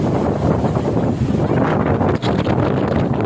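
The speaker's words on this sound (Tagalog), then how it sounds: "Napakalakas po ng hangin dito." Strong wind buffeting the microphone in a loud, continuous roar, with the gusts swelling and easing.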